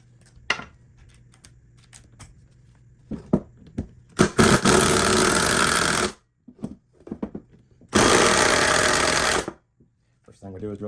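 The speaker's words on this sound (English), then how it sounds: "drill a little hole, flip it over, throw it in reverse" A power drill boring into an alternator casing during a scrap teardown, two sustained loud whirring bursts of about two and one and a half seconds separated by clicks, knocks and handling noises.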